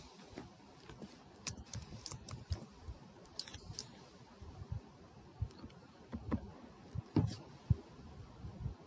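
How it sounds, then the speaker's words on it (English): A computer keyboard is typed on in quiet, scattered bursts of light clicking keystrokes, close and faint, with no talking. "when I type the keyword override"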